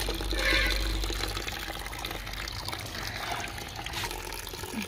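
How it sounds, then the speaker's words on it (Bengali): Water from a pump running slowly into a bucket, a steady pouring and trickling wash with no talk over it, filling toward the brim. "কখন আমার বালতির জলটা ভরবে তার মধ্যে পাম্প চালাতে হবে, জলের স্পিড স্লো হয়ে গেছে।"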